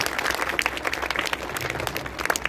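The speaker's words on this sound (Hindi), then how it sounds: "अपने लिए खुद तालियां बजाएं।" Students clapping for themselves at an International Women's Day school gathering, a steady wash of many hands clapping together, fairly soft and continuous throughout.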